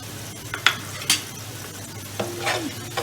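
Whole garam masala frying with lightly browned onions in a pot, a soft steady sizzle under occasional scrapes and stirring clinks of a spoon.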